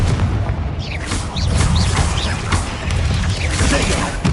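Spell explosions from the Confringo fire curse in the video game Hogwarts Legacy, heavy repeated booms and crashes over dense combat noise, with a voice speaking briefly.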